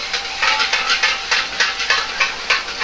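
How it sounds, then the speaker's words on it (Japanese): Potato starch slurry is stirred briskly into a hot, thickening sauce for shrimp-and-egg fried rice. Steady, rhythmic stirring strokes sound roughly three times a second with a soft sizzle under them, close and clear, with no talk. "加熱しながらしっかりと混ぜとろみをつけます。"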